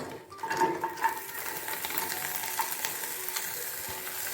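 Half a large onion, some garlic and a bay leaf hit a hot pan for broccoli soup, setting off a steady, close sizzle with faint stirring clinks and no talk.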